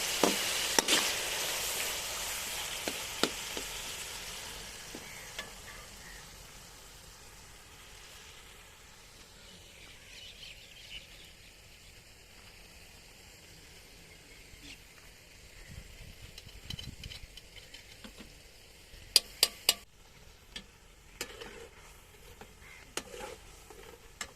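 Finely chopped tomatoes frying in a pan for chana pulao: a strong hiss and sizzle at first that settles into a softer simmer, with occasional utensil clatter and a voice talking in places.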